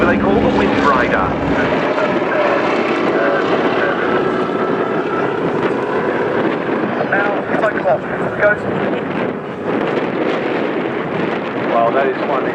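A Breitling WingWalkers biplane passes by at an airshow, its loud propeller engine droning steadily and then swelling and fading, while a commentator talks over it the whole time.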